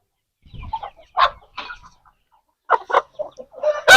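Aseel chickens, a rooster with several hens kept in cages on a farm, give scattered close clucks and short calls, with a louder squawk at the end.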